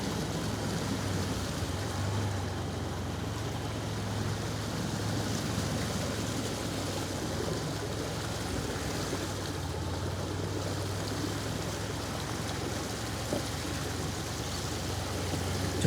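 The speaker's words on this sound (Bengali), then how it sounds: "জল খুবই দ্রুত গতিতে নামছে এখান দিয়ে" Floodwater rushing fast along a road gives a steady, broadband roar with no let-up for the whole stretch, even and moderately loud, with no talking over it.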